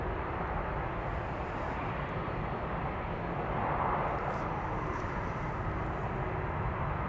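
A Delta Air Lines Airbus A330neo jet departing from Schiphol Airport in Amsterdam, a continuous broad, rumbling roar that swells slightly midway and then holds steady.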